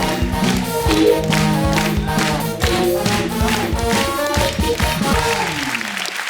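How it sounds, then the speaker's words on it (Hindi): Studio audience at a Hindi comedy talk show breaking into loud, sustained applause and cheering that fills the whole stretch without a break, with music playing beneath and a faint voice mixed in. "फरहान और प्रियंका के लिए जोरदार तालियां।"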